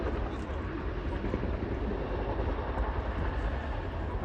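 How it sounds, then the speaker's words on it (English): A Chinook helicopter taxis back to its parking spot at an air show, a broad, steady rumble and rotor wash heard from a distance with no clear voices. "And the Chinook clearing back to its parking spot."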